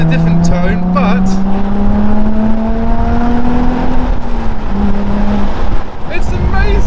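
A Nissan 350Z with a new loud aftermarket exhaust revs up in a rising, sustained engine tone that drops back, loud and close, with a person talking over it.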